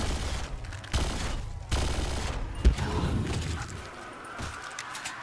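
Automatic gunfire from a gun in Call of Duty Black Ops, dense bursts of rapid shots in an arena, fairly loud and close, broken by short pauses and trailing off toward the end.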